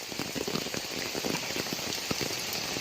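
Heavy rain falls steadily in Kozhikode, seen from a house looking out toward the road: a dense, continuous hiss of drops pattering on surfaces nearby, with no voices.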